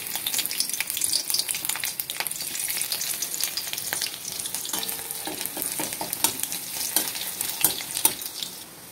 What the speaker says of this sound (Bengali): আমার রসুন ভাজা হয়ে গেছে